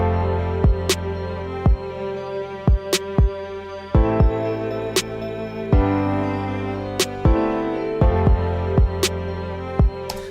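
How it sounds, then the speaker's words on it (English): A programmed kick and snare pattern thumps in a steady rhythm, sharp hits cutting through sustained chords of a produced beat. "Now the kick and the snare pattern that I have sound like this."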